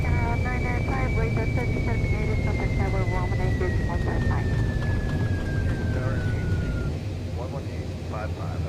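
Airplane touching down on a runway in a VR flight simulator game, a steady loud engine roar with a slowly falling whine running throughout, with people talking over it.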